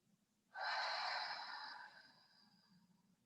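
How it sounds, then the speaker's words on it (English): One slow, intentional breath during a gentle yoga session, a close, soft exhale rising quickly and fading gradually over a couple of seconds in a quiet room. "take some breaths here. Slow, intentional breath."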